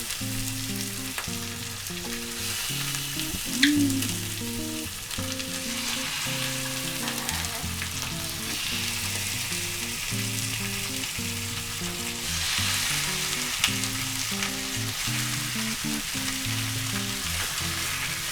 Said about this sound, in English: So here goes the guinea hen. Ah, it's sizzling.